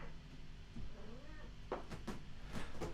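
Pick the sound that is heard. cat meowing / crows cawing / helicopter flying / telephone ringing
cat meowing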